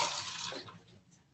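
Hot water poured for a drink, a short gush of splashing liquid that is loud at first and then tapers off into faint trickles, heard close and alone.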